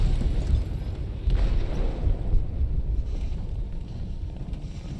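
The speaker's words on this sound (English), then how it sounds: "They detonated an explosive in the hold." An explosive goes off in a ship's hold in the video game Detroit: Become Human, heard as a deep, sustained low rumble with a rushing, wind-like roar that stays steady and heavy throughout.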